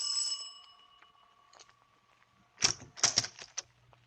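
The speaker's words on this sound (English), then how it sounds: "I rang the bell and waited." A doorbell rings at a house's front door in an old-time radio drama, a bright ringing tone fading out at first, followed by a quiet gap and then a cluster of sharp metallic clicks and rattles.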